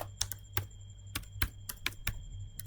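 Crisp, close clicks of a computer keyboard as a command is typed into a Cisco network switch, about a dozen irregular keystrokes in short bursts with a faint steady hum underneath.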